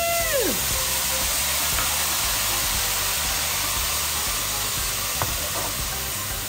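White wine poured into a hot pan of chicken for a Brazilian chicken dish, giving a steady, loud sizzle and hiss that holds throughout, close up, with no talking.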